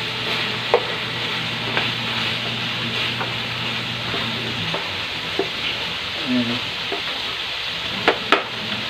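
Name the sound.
stir-frying beans and snow peas (chicharo) in a pan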